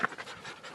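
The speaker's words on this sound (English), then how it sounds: "There's a dog in the canal who needs rescuing on Thanksgiving." Senior yellow Labrador panting after being rescued from a canal on Thanksgiving, quick breathy pants in a steady rhythm, close and moderately loud, no talking.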